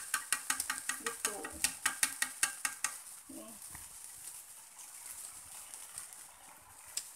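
Crispy tofu frying in a pan until browned, a close, regular run of sharp scraping and tapping strokes for about three seconds over a soft sizzle, then quieter frying with only an occasional tap.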